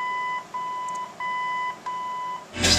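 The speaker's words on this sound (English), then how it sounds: "It'll beep once and go back to toner." A 1964 Ford F100 pickup's original AM radio beeps a steady electronic tone four times in even pulses, close and clear, followed by a brief burst of noise at the end.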